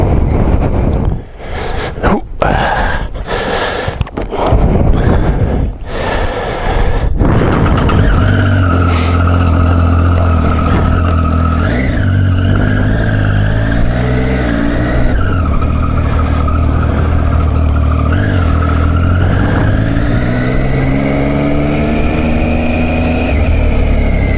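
A Triumph Street Triple 675 motorcycle is ridden, its engine note rising and falling steadily through gear changes, with some wind buffeting at the start before the engine settles into a continuous, fairly loud drone.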